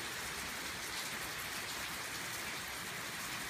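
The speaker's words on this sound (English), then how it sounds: "It's parked under a roof and it's still raining under here." Steady rain patters densely on a hard surface, dripping through a leaky roof over a parked tractor, a constant hiss of drops close by with no pauses or voices.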